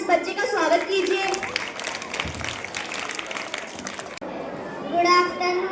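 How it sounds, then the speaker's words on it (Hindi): An audience applauds to welcome a young first-grade schoolboy onto the stage at a school Parents' Worship Day event, steady clapping with crowd noise and children's voices mixed in for several seconds. "तालियों के साथ इस बच्चे का स्वागत कीजिए।"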